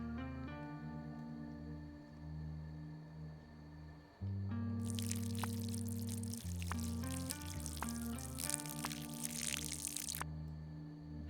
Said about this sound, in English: Now we need to water our plant.